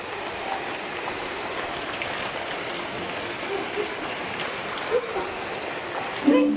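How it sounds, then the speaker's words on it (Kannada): Heavy rain pours down around a village house, a loud, continuous close-up hiss of drops on surfaces, with a few faint incidental sounds near the end and no clear speech. "ಫುಲ್ಲು ಮಳೆ"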